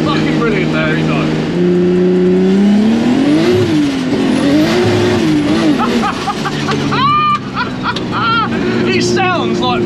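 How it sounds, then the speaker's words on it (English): A Nissan Skyline six-cylinder turbo engine fitted in a VW Beetle revs loudly up and down with rising and falling pitch, close and dominant, while people talk over it and a turbo whistle and flutter cut through. "There's something about a six-cylinder turbo that sounds..."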